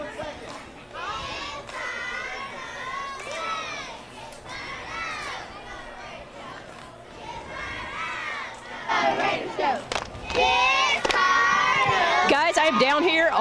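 Pleasant Valley Raider cheerleaders shout and cheer on the field at a football game, a loud crowd of overlapping voices that swells toward the end.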